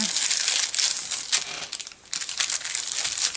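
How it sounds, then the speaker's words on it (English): A piece of parchment paper crinkles and rustles close up while it is handled during polymer clay work, steady and fairly loud with a brief lull midway. "now I'm going to take a piece of parchment paper"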